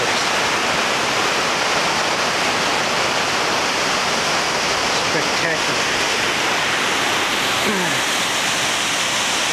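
Tumalo Falls waterfall roars in a loud, steady, broadband rush of falling water that holds unbroken throughout, close and dominant.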